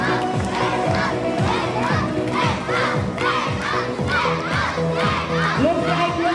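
A loud crowd of children at an Independence Day school race cheers and shouts without pause, with rhythmic chant-like bursts of yelling that stay close and dense throughout.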